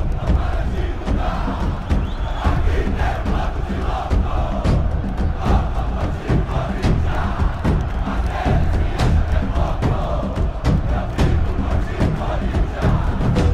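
A stadium crowd of Corinthians fans roars continuously in the FIFA 23 video game, a loud, dense wall of chanting and cheering with steady thumping beneath it throughout.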